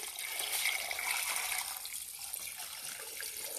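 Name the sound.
water poured into a pot of rib stew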